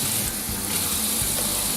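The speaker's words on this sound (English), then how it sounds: "Rinse all your vegetables under cold water." Cold tap water runs steadily over vegetables in a sink, a dense, continuous gushing hiss close to the microphone with no voices.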